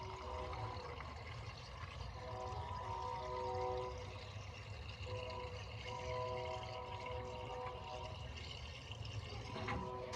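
Antifreeze and water 50-50 coolant mixture poured into the cooling system of a 1986 Ford F150, a faint steady trickling pour with a low background rumble, continuous for about ten seconds.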